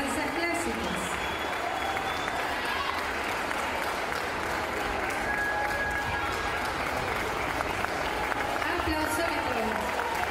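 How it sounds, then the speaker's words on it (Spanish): Audience clapping after a children's preparatory-level dance recital of Spanish and classical dances, a dense, even wash of applause from a crowd that runs steadily for about ten seconds with a faint murmur beneath. "Aplausos."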